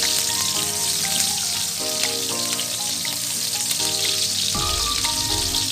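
Garlic and onion fry in a pan with a steady, close sizzle, crackling continuously throughout and briefly swelling louder near the end, with no talking.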